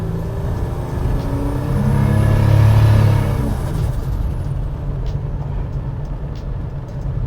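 A 650 whp turbocharged Buick Grand National V6 driving on the road, its steady engine drone swelling as it pulls harder, with a high turbo whine on top.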